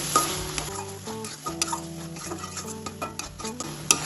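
Banana stem (thor) with spices stirred in a pan, a spoon scraping and clinking in steady strokes over a soft sizzle, close and moderately loud with no talking.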